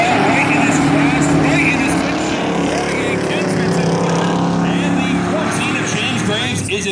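Eight-cylinder race cars battle on the oval at Valley Raceway during a heat race, a continuous loud engine drone with harmonic whine, cars running in a pack, with a commentator talking over it.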